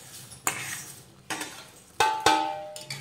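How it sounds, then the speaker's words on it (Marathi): Roasted vermicelli poured into boiling water in a pot and stirred while making sevai upma, with a few distinct clattering scrapes of the spoon against the pot over a soft bubbling background, no talking. "तर आता यामध्ये आपण भाजून घेतलेल्या शेवया घालूयात"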